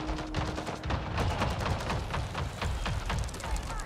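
Gunfire rings out in the Avatar: Frontiers of Pandora video game, a rapid string of sharp, evenly spaced shots at moderate loudness over a low rumbling background.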